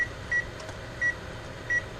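Kitchen timer being set while cooking sausage and biscuits: three short, thin electronic beeps spaced evenly about every three-quarters of a second, faint over a low hum of room noise.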